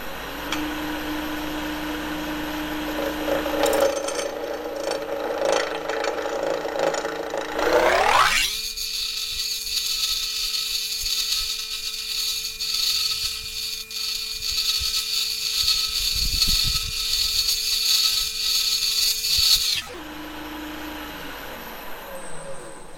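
Power sander or lathe-driven sanding of a wood and metal pepper mill, a steady high whine that spins up, holds evenly for about twelve seconds, then cuts off, close and fairly loud.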